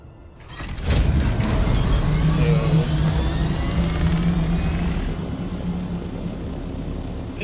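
Aircraft in the Dune video game flying between two bases, a loud engine drone kicking in after a brief quiet start, then a sustained rumbling whine that slowly eases off.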